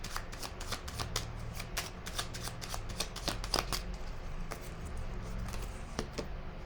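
Tarot cards being shuffled and handled, a close, steady run of soft riffling flicks and snaps that continues throughout at a moderate level.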